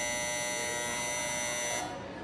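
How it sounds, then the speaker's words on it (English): A combi oven timer buzzes in a steady, continuous electronic tone that cuts off near the end, loud and alone. "That noise is because the timer has gone off"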